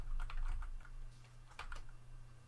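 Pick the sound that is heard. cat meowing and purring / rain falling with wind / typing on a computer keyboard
typing on a computer keyboard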